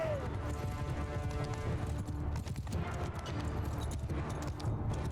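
Cavalry horses galloping in Mount & Blade II: Bannerlord, a dense, continuous clatter of many hooves in a steady rolling rhythm, with battle noise and faint voices mixed in throughout.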